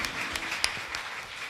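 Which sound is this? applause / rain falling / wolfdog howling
applause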